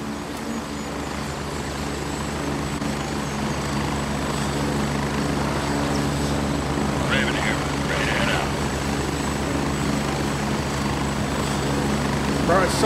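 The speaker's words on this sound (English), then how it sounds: "The heli is so loud." Helicopter in the military shooter game Gray Zone Warfare, a steady loud rotor and engine drone filling the whole stretch, with people talking over it.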